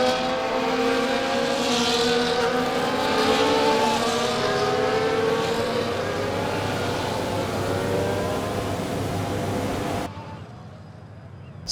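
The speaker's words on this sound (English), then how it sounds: "As the cars make their way back to the starting grid to form up and get ready for lights out" Several F1 car engines in the F1 24 game drone and rise together in a steady, layered whine as the cars roll to the starting grid at Singapore, loud and continuous, then cut off abruptly near the end.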